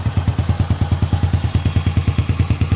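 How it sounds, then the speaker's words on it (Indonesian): A motorcycle engine idling close by, with a steady, fast, even thumping pulse that holds throughout with no voices. "sekarang kita coba menghidupkan motornya. Oke, ini motornya sudah hidup ya."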